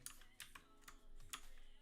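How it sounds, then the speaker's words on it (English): Keys clack on a computer keyboard during a livestream, a quick irregular run of close, crisp taps over low room hum, with no talking. "my keyboard sounds insanely fucking loud"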